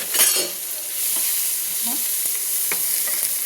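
Onions fry in oil in a pan, a continuous bright sizzle with occasional stirring scrapes and taps, close and fairly loud, with no talking.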